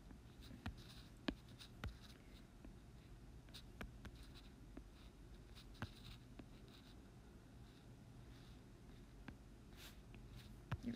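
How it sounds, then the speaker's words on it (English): A pencil lines a drawing on paper in steady, soft scratching strokes with occasional sharper ticks as the tip touches down, close and quiet, with no talking. "I'm lining it in pencil and not pen"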